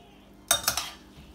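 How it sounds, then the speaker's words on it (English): A few quick clinks and scrapes of a utensil stirring drained spaghetti into amatriciana sauce in a pan, three close metallic knocks in a row, then a faint settling sizzle. "So now I'm going to add my drained pasta right into the sauce."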